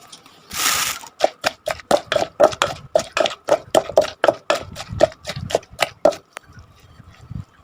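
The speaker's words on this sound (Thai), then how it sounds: "พอหั่นเสร็จแล้วก็ตำมะกอกนะคะ" Olives pounded in a mortar for tam jaew, a chili dipping sauce: about fifteen steady, sharp thuds come in an even rhythm, loud and close, with no talking.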